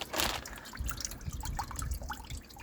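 Coolant from a Jaguar XJS V12 draining into a bucket, a close trickling and dripping liquid stream with small splashes, fairly quiet and continuous.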